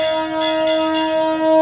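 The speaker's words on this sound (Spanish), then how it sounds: "el guarda tocando la campana" A train guard's bell rings three times in quick, even strokes over a steady, loud tonal hum, on a train to Patagonia from Buenos Aires.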